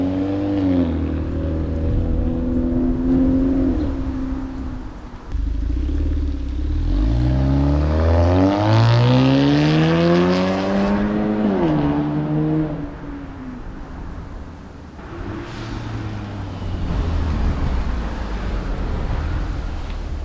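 A deep, rumbling exhaust from a modified Acura RDX turbo with a high-flow cat drones continuously while driving, rising in pitch as the engine revs up around the middle, then settling back to a steady cruise.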